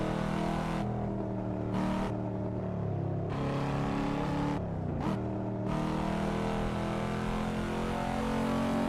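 A car engine revs loudly and steadily in Euro Truck Simulator 2, with several brief cutouts and pitch shifts as it accelerates, sounding synthetic like a game engine.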